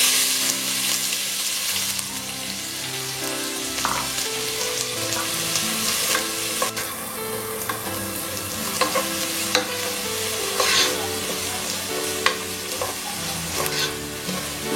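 Chopped onion frying in hot oil in a pan during pasta preparation, a steady close sizzle with intermittent stirring scrapes and clinks throughout, no talking.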